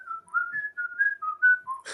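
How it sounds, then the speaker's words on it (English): A person whistles a wavering tune of about eight held notes, gliding between pitches, clear and close in a quiet room. "I want to whistle with this gentleman."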